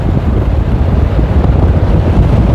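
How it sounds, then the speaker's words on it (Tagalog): Strong headwind buffets the microphone during a road bike race breakaway, a loud continuous low roar of wind noise with no talk. "napakalakas ng aking strong headwinds"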